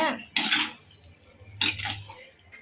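A metal ladle scrapes and clinks against a pan while cutting up boiled potatoes for poori masala, giving two distinct clanks over a quiet background with faint speech.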